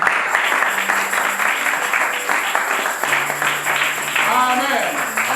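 Congregation applauding and cheering inside a church service, a steady dense wash of clapping lasting the whole stretch with voices mixed in.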